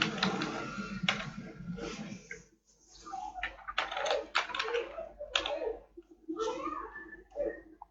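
Code being typed on a computer keyboard while setting up a PHP HTML-to-PDF script: bursts of quick, close key clicks with short pauses, a voice talking over much of it.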